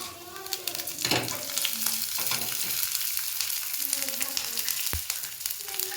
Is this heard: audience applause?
no